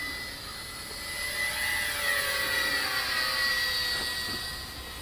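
A Flyzone P-38 Lightning radio-controlled model plane flying in light wind, a steady high electric whine that swells and holds, no voices.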